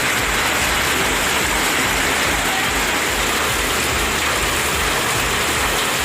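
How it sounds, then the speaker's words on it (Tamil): Heavy rain falls around Tirumangalam in Madurai district, a dense, loud and unbroken roar of downpour that stays constant throughout with no voices. "மதுரை மாவட்டம் திருமங்கலம் மற்றும் அதன் சுற்றுவட்டார பகுதிகளில் பலத்த மழை பெய்தது"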